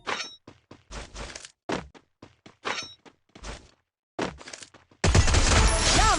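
Gunfire from a shotgun in the Free Fire battle royale game: sparse sharp shot bursts, then a loud sustained blast of noise at the end, heard alone.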